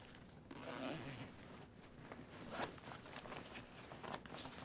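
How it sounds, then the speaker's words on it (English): An Alpinestars motorcycle suit with a Tech Air airbag system being zipped closed, a soft close-up rasping zip running steadily for a few seconds amid faint rustling of the suit. "Zip that into place, come to the other side, and repeat that process."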